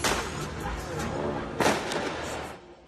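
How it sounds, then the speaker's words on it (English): Fireworks go off on Yonge Street, a city street, during a crowd celebration. A sharp bang bursts out midway over a roar of crowd noise and distant voices. "Our cameras captured fireworks being set off on Yonge Street."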